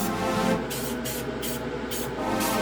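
Steady hiss of an aerosol spray paint can, sprayed in several bursts with short breaks between, over a faint background hum.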